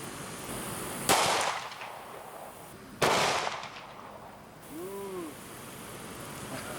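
Two sharp, loud pistol shots from a .357 SIG fired into a ballistic gel block ring out about two seconds apart, each with a short echoing tail. A faint hoot-like tone follows.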